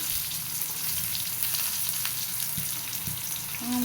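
Eggplant pieces frying with turmeric and a little salt in a pan give a steady, close sizzle, with a few soft stirring knocks near the end.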